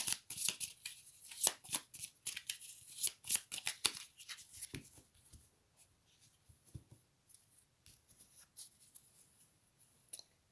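Tarot cards being shuffled and drawn at close range: a run of crisp, rapid riffling flutters and slaps early on, then quieter sparse card handling and taps, with no talking.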